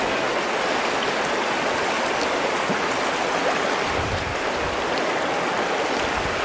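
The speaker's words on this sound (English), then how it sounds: "This is the Virgin River" The Virgin River rushes through a canyon in Zion National Park as a loud, steady, broadband roar of flowing water with no pauses.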